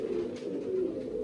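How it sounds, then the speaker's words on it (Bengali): A pigeon coos softly nearby, a low, steady, throaty murmur that carries on for the whole moment. "এই হচ্ছে পায়রা"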